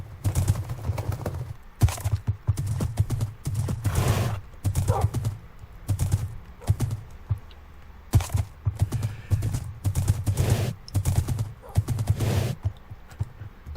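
Horse galloping in Minecraft, a run of quick hoof clip-clops in bursts with short pauses between, fairly close and loud, with no talk.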